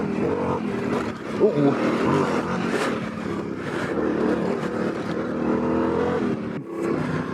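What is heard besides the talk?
Yamaha Tenere 700 motorcycle riding on forest roads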